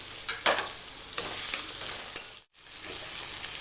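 Tomatoes tipped into onions already frying with mustard seeds and urad dal for a South Indian field bean varuval, giving a steady close sizzle with a few scraping stirs and a brief drop near the end.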